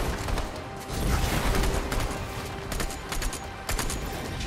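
Rapid bursts of Fortnite gunfire crackle continuously at moderate volume, with scattered sharper shots over a busy background.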